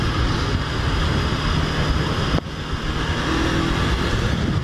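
A Honda CB500F motorcycle accelerating on a morning commute, a steady, loud engine roar throughout with a brief dip midway before the drone resumes, no talking.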